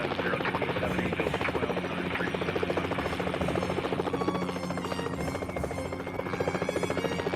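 Helicopter in a search-and-rescue flight simulator game, a steady loud rotor thrum and engine whine droning continuously throughout.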